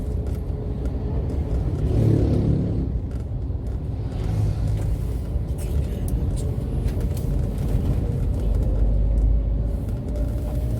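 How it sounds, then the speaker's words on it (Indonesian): Steady rumble of slow traffic in a jam in Palembang, car engines idling and creeping along, with a low continuous drone and occasional revving nearby. "udah mulai macet nih"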